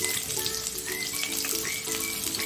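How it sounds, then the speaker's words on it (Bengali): Chopped onions hitting hot oil in a home kitchen pan, giving a steady, close broadband sizzle with bubbling crackle and a few faint clinks, no talking. "সেই পেঁয়াজ কুচিগুলো এবার আমি এই তেলের মধ্যে দিয়ে দেবো"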